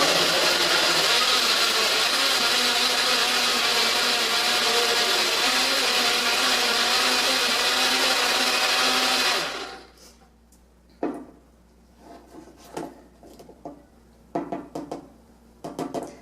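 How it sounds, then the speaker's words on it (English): A kitchen blender pulverizes breakfast ingredients that include powdered milk, whirring loudly and steadily for about nine seconds before cutting off, followed by a few scattered knocks and taps as the jar is handled. "and then we blend. We pulverize."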